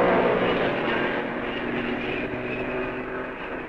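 Mercedes racing cars at the 1955 Belgian Grand Prix roar past in a loud, steady engine drone that slowly fades as they move away, with no voices.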